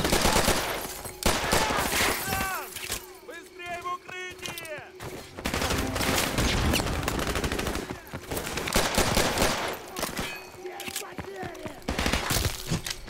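Near-continuous automatic gunfire in Modern Warfare Remastered, dense rattling bursts with brief pauses, loud and close, mixed with game effects and a voice.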